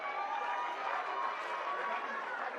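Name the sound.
round of applause for the coaches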